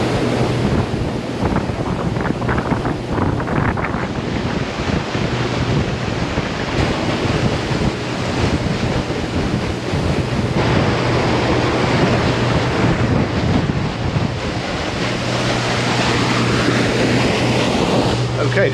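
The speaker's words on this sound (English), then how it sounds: "And there we go, a Seaward at speed." A 2016 Seaward 42 motor yacht running at speed through the sea, with loud continuous rushing of waves and heavy wind buffeting the microphone, a steady roar throughout and the hull's pass drawing slightly away near the end.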